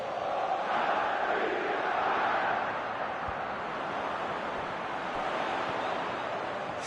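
Stadium crowd in a PES football video game, a steady wash of cheering and murmuring that sounds distant and fairly soft, swelling slightly early on and then holding level throughout.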